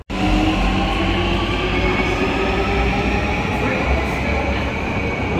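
An Istanbul metro train pulls into Yenikapı station, a loud, steady rumble of wheels and carriages close by that fills the whole stretch without a break, with no talk over it.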